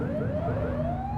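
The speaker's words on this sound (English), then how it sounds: "Get behind them and blip the siren to make them pull over." A police car siren blips in the video game The Precinct, a short rising electronic wail that sweeps upward over a low engine rumble, heard up close and alone.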